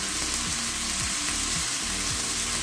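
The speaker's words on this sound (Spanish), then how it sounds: "moviendo para que no se nos queme el aderezo" Spiced dressing sizzling loudly in a pan while being stirred, with a dense continuous frying hiss and repeated scraping strokes of the spoon in a steady rhythm.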